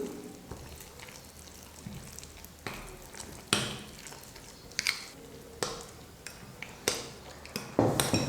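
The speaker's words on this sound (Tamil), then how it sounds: "இப்போ முட்டையோடு சேர்த்து இது எல்லாத்தையும் நல்லா மிக்ஸ் பண்ணிக்கணும்." Spoon scraping and clinking in a bowl while sautéed potato and carrot are stirred into beaten egg, with irregular taps and soft wet squishes at close range, no talk.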